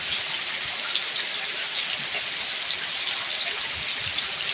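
Heavy monsoon rain falls steadily on Kalsuli village in the Konkan, a dense, even hiss of downpour close by without a break.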